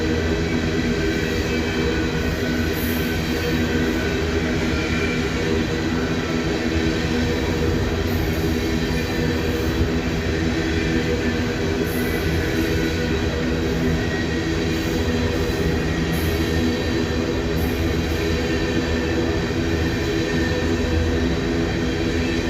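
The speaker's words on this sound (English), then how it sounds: "You can hear the wheels on the rails." Empty coal train rolling on recently ground rails, its wheels producing a steady, loud metallic rumble and hum with faint intermittent high squeals, continuous throughout without pauses or voices.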